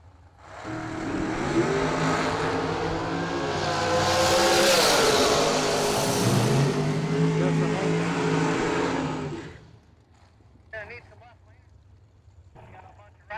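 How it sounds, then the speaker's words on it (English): A drag-racing dragster launches and accelerates down the strip at a Christmas event, a loud sustained engine roar swelling for about nine seconds before cutting away, leaving faint scattered noises. "Stephen McCrory in the Overkill Motorsports Dragster in the right side"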